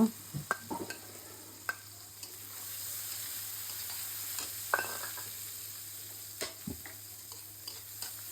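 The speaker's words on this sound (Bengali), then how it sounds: "আপনাদের পেঁয়াজটা লাল করে দেখাবো লাল হয়ে গেছে পেঁয়াজটা" Onions, green chillies and garlic fry in a pan with a steady soft sizzle, broken by sharp clinks and scrapes of a spoon stirring, close and moderately loud, no talking.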